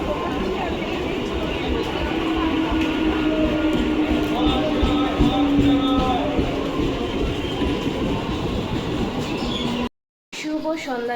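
A train pulls into a railway station at night, its steady rumble and a long drawn tone carrying under the hum of a waiting crowd before a brief cut near the end.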